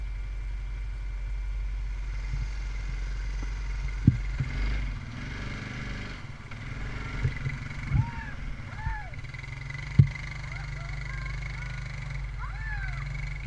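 Motorcycle engine idling low and steady during a ride, a constant near hum with occasional small bumps and clicks, while two people talk over it.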